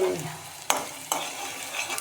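Onions frying in a pan for a moong dal tadka, with a soft steady sizzle broken by two sharp stirring scrapes, close and alone with no voices.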